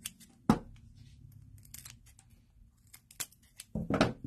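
Scissors snipping through pieces of softened isomalt sugar, a few sharp crisp cuts spaced apart with quiet handling between them, close and clear.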